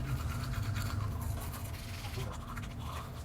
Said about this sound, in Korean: 하루만에 하는 양치 어우 개운해